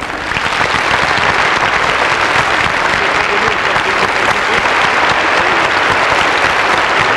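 A large audience applauds a singer in a dense, continuous, loud roar of clapping that holds steady from start to finish.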